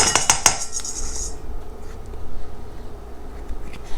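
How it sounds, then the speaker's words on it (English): Tahini whisked with lemon juice: a quick run of close metallic clinks and scrapes of a whisk against a bowl in the first moments, then a low, quiet hum with only faint movement. "what we're going to do is whisk this up, because this is a lot thicker than the lemon juice"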